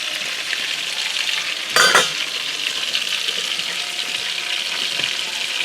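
Poultry and rice bubbling and sizzling in a pot with plenty of water still cooking off, a steady close hiss with one brief louder clatter early on, no voices.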